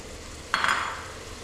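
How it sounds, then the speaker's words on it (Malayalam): A spoon scrapes once through chicken curry with green chillies and tomato in a pan, a brief soft clatter over a quiet kitchen background. "നമുക്ക് നന്നായിട്ടൊന്ന് ഇളക്കാം."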